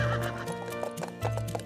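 A horse whinnies loudly up close in a single drawn-out call, with a rising and falling pitch over about a second and a half and no talking.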